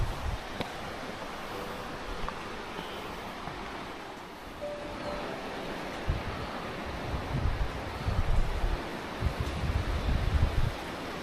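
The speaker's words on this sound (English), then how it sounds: "This is what the river looks like down here." A fast-flowing river at the Pelorus Bridge campsite in New Zealand's South Island makes a continuous broad rushing roar, with gusty wind buffeting the microphone and growing louder toward the end, and no talking.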